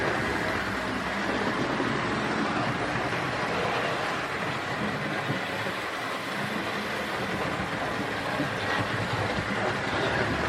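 Model GWR Churchward locomotive rolls smoothly across points, a steady, dense rumble and hiss of running wheels, close and continuous, with no voices.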